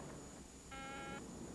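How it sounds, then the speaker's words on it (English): A telephone signals an incoming call with a single short, faint electronic ring tone, heard alone in a quiet room. "Phone call."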